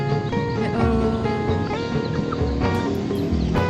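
Chickens cluck over a dense, busy background of tonal sound, steady and moderately loud throughout, with no clear speech.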